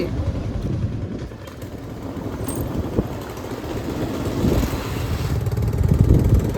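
A motorbike is ridden along a road near a village, with a low engine rumble close by that swells toward the end along with some wind noise.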